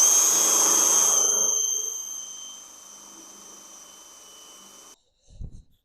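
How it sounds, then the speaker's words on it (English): A power drill bores through a thick transom on a brand-new boat, whining loudly and steadily before easing to a lower, quieter hum, then stopping, with a short low thump just after. "Drill a hole for it."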